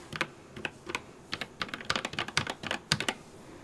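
Fingers type on an RK 96s mechanical keyboard, a quick irregular run of crisp, close clicks and clacks in short bursts, heard alone without talk.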